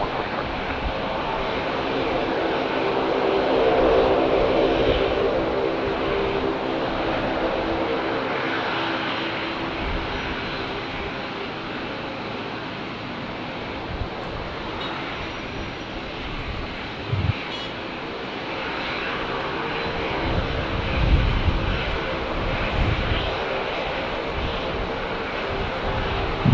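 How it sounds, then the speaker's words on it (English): Air New Zealand airliner arriving from Auckland and landing on runway 19 left at Brisbane Airport on a windy day, a steady broad engine roar that swells and then slowly fades over wind noise, with no speech. "we've got our second Air New Zealand arrival for this morning. They usually come in pairs from Auckland. He's on final here on 19 left"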